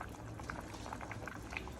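Rice and lentil mixture boiling in an open pressure cooker, a soft continuous bubbling with small pops, close and fairly quiet.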